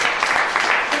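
Graduation ceremony audience applauding, a dense burst of clapping filling the short moment with no voice over it.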